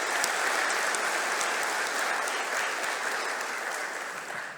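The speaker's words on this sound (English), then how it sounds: "please join me in a big, warm round of applause for Dr. Dennis to thank him for his kindness and service" A ceremony audience gives a big, warm round of applause in honour of Dr. Dennis, with dense, sustained clapping filling a hall that tapers slightly toward the end.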